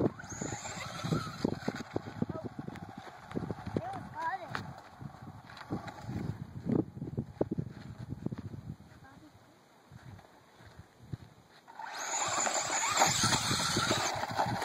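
A 1/16 mini E-Revo RC car with a 1/10-scale brushless 2S motor drives around with whining motor bursts and tire squeals, while people talk in the background.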